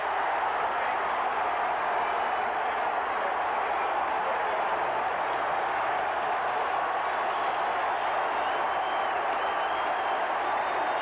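Broad, sustained roar of a stadium crowd applauding and cheering a quarterback's diving first-down run at a 1993 Steelers–Browns NFL game, a steady wash of clapping that holds loud and even throughout.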